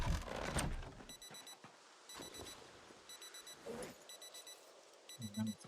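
Repeated electronic alarm beeps sound in short bursts from a device in modded Project Zomboid, a survival video game, fairly faint and recurring steadily over quiet background noise.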